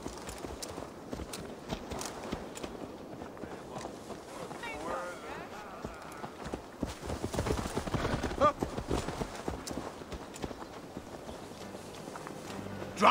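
Horse hooves clop rhythmically at a steady pace in Assassin's Creed Valhalla, with a voice speaking over them and background game ambience.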